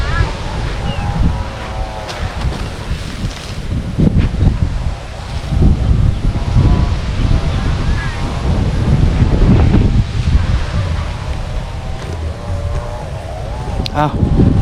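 Strong wind roars and buffets the microphone outdoors while a two-metre kite is flown, a loud, steady gusting rumble throughout, with people talking over it.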